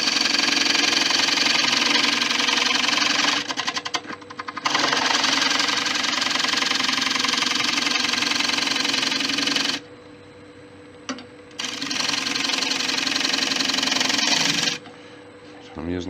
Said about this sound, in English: Scrape that with a carbide to make sure it's flat.